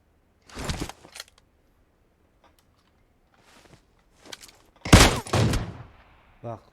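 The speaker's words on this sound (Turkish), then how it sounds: "Bunu kafaya ben vurdum." Gunfire in the mobile battle royale game PUBG Mobile comes as a few sharp bursts of shots, with the loudest cluster near the end among quieter clicks.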